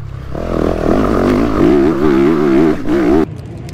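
A motocross motorcycle on a dirt track, its engine loud and close and running at a steady drone, then easing off with a wavering pitch as it brakes before cutting out near the end.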